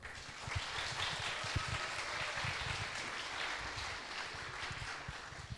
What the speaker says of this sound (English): so you can clap for us again